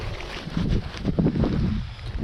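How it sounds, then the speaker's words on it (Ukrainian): Wind buffets the microphone in uneven low gusts outdoors on a winter riverbank on the Dniester, a rough rumbling roar that swells and eases over a couple of seconds. "Вітер цей трохи заважає."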